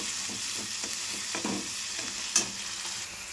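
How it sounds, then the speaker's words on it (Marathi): Onions browned with ginger garlic paste fry in a pan for a fish curry, a continuous close sizzle broken by scraping stirs and one sharp clink of a utensil, no talking. "आता अदरक लसूणची पेस्ट टाकते कांदा लाल झालाय पूर्ण लाल होऊन तिथं भाजून घ्यायचं"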